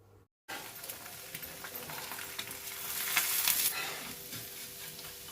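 Eggs scramble in a hot pan with a steady close sizzle and frying crackle, rising briefly in intensity partway through as they are stirred, with no voices over it.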